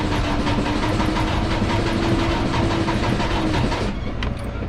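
Engine cranking and struggling to start, a loud, steady mechanical churning with a droning tone that runs for about four seconds, then cuts off abruptly into quieter rumble.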